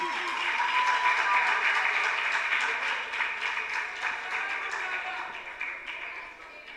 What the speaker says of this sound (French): Sous vos applaudissements, Bianca Petit.